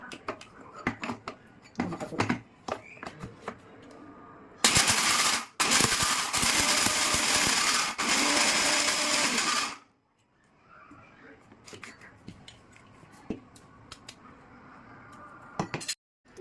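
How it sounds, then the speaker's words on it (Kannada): A kitchen mixer grinder coarsely grinds dry fruits for laddu in one loud, whirring burst of about five seconds, with scattered clinks of utensils and a voice before and after. "ಮಿಕ್ಸಿಗೆ ಸಿಗೋಣ"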